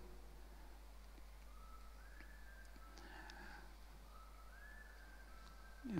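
Faint whistled notes from someone in an audience during a church talk, two short rising whistles heard at a distance over a quiet room hum.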